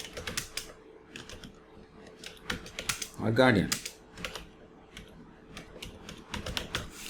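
Fingers tap steadily on a computer keyboard, producing a string of close, light clicks while a person talks partway through.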